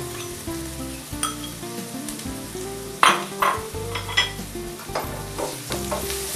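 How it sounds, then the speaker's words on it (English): Prepared paste frying in oil over golden-brown onions, a steady close sizzle broken by several scraping stirs. "add to this the prepared paste and fry the paste until the oil separates"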